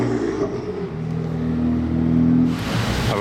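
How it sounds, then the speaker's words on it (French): A BMW M2 on a Monaco street revs hard, its engine note climbing to a loud, sustained drone with rising harmonics before a rushing whoosh as it pulls away close by. "Elle fait un bruit cette M2."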